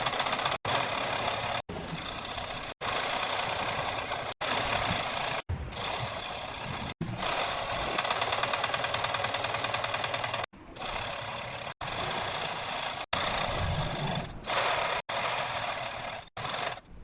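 Sewing machine stitching fabric for a plinth cover, a steady continuous mechanical whirr that runs in bursts with short pauses between seams, loud and close with no talking.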